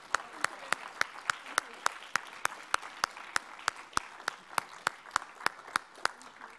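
Audience applause at the Lorenzo Natali Media Prize 2017 ceremony, a sustained wash of clapping punctuated by sharp, evenly spaced loud claps, with some voices mixed in.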